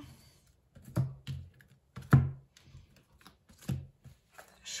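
Tarot cards being cut and shuffled by hand in a triple cut, heard as a handful of soft, close card slaps and riffling flicks spaced roughly a second apart, fairly quiet against a still room.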